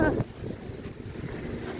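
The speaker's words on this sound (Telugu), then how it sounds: "మంచిగా గాలి" Wind blows outdoors during a morning walk or run, a steady low rushing gust buffeting the microphone for the whole stretch, with a brief voice at the start.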